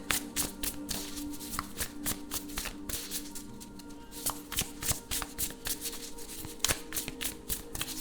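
Oracle deck cards being shuffled during a card reading: continuous close-up riffling and flicking of cards with rapid papery taps, steady and fairly loud throughout, with no talk.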